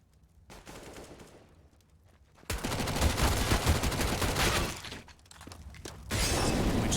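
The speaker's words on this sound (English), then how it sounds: "it's the shots out toward the CT spawn, and the pistol's now on the back foot" Counter-Strike gunfire on the Dust2 map, pistols and a MAC-10 submachine gun: dense bursts of rapid shots and cracking impacts, rising to a loud sustained volley and pausing briefly before resuming.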